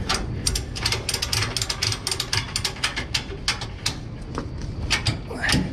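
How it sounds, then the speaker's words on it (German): Close, rapid clicking as a ratchet strap is cranked tight against a motorcycle frame, a fast run of pawl clicks that slows toward the end. "da ist hier in der Mitte so eine Ratsche festgemacht, unten am Rahmen"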